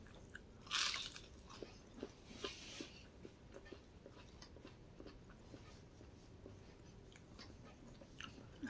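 Close, quiet crunching and chewing of McDonald's small fries, soft repeated bites with one sharper crunch early on, no talking.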